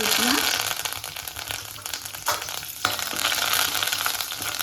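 Mustard seeds and cut dried red chillies fry in hot coconut oil for a Malabar sambar tempering, a dense, loud crackling sizzle with stirring scrapes, steady throughout.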